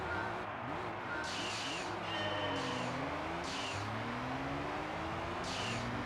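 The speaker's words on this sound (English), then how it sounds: "The only thing you hear is the turbo. It's intrusive." Turbo whine from a car driven in Gran Turismo 3, a steady engine drone with a rising and falling whistle layered over it. The sound is continuous and moderately loud, and no one speaks over it.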